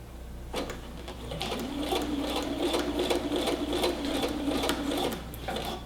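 Close sewing machine stitching a twill tape waistband, running steadily for several seconds with a rapid even needle rhythm, then slowing and reversing into a back stitch near the end, with no talk.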